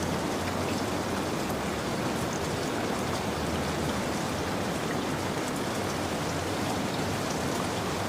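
Steady, dense rain pours down without pause, an even hiss of drops striking surfaces at moderate volume, with no voices or other sounds breaking through.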